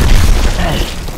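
An explosion in the video game Gears of War, a loud, deep booming roar that fills the short moment and slowly fades as rumble.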